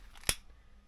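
Cutting a rope line for a boat's bowsprit: a single short, sharp snip, close and fairly quiet, alone in a near-silent background.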